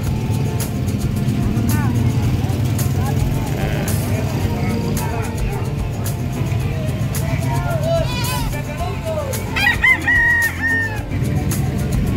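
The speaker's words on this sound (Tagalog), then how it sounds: "may mga manok ding binibenta rito, mga manok native" Native chickens cluck and a rooster crows a few times amid a busy outdoor crowd at the San Carlos City livestock market, with steady chatter and traffic rumble underneath.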